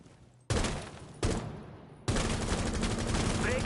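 Gunfire tears through a wooden wall in Rainbow Six, loud bursts starting abruptly in three stages and settling into sustained, dense shooting near the listener.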